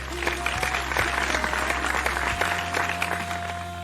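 An audience applauding a woman being honoured, a steady wash of clapping under a sustained low hum and tonal background music, moderately loud throughout.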